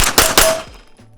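Two sharp, loud close-range shots from a Springfield Armory Prodigy 1911 double-stack pistol with a 5-inch barrel, fired in quick succession, each with a short ringing decay and no talk over them.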